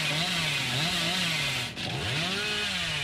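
Hillbilly's chainsaw in Dead by Daylight revving continuously, a loud rising and falling motor whine with a brief dip in the middle before the engine surges again.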